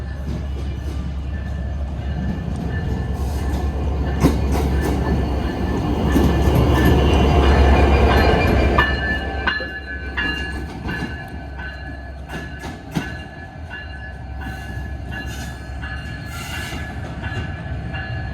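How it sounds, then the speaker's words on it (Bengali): A train locomotive on the Benapole Express rolls into Jashore railway station, a loud steady rumble swelling midway with squealing wheels and clanking couplings, then easing off into scattered metallic knocks and clicks. "যে ইঞ্জিনটা খোলা হয়েছিল সেই ইঞ্জিন আবার চলে আসছে"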